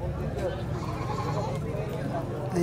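A crowd of goats bleats at a goat farm in Mantalongon, Barili, with many overlapping cries in a dense, noisy pen. Someone talks over the animals throughout.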